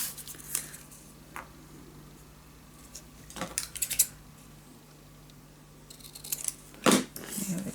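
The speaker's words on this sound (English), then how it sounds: "You also can just cut these and then cut it down. That's also possible, but I'm gonna cut it right away." Scissors cut paper for a scrapbook mini album, giving a few separate crisp snips and rustles spaced out against quiet room tone, with a louder cluster of cuts and paper handling toward the end.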